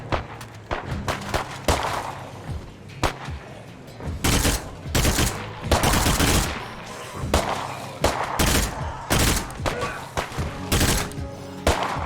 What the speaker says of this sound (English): Put on burst fire, to be honest.